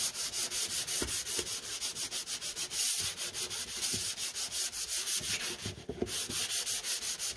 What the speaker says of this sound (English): take down whatever edges